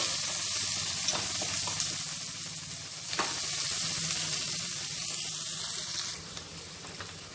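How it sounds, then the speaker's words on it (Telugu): Curry leaves frying in oil in a pan for a potato and tomato curry, giving a steady close sizzle with occasional crackles and a soft stir or clink partway through. "కరివేపాకు కూడా వేసేసుకుందాము వేసేసుకొని కొద్దిసేపు మనము ఫ్రై చేసేసుకుందామండి"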